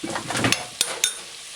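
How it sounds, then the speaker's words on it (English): Chicken frying in a pan for a chicken and broad bean stew, a brief hiss of sizzling joined by a few sharp clinks of a utensil against the pan, close and fairly quiet. "It's been a full 12 minutes now since we start frying the chicken"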